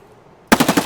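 Short burst of PP-19-01 submachine gun fire in Escape From Tarkov, about five rapid, evenly spaced loud shots that start abruptly after half a second of near silence.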